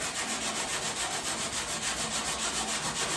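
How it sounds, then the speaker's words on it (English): A steel pad scrubs phosphoric acid across the wet body of an FJ-40 Land Cruiser during rust and paint removal, making a continuous, close, rhythmic rasping rub with even strokes and no talk. "we'll just kind of wet her down with this phosphoric acid, and then we'll start scrubbing a little bit here"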